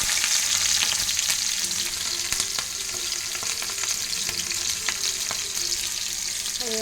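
Onions and green chillies sizzle hard in hot oil in a pan, a dense continuous crackle with occasional sharp pops and stirring clatter, with no one speaking.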